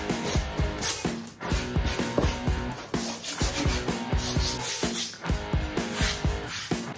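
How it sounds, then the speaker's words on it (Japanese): Sandpaper rubbed by hand over a coated plywood board, a rhythmic back-and-forth scratching of steady strokes, close and fairly loud, with no voices. "紙やすりをかけていきます。 ツルツルになるまでですね。"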